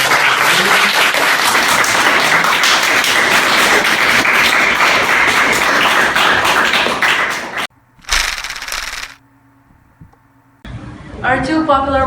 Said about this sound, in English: Let's have one applause.